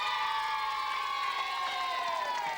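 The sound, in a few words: studio audience applause and cheering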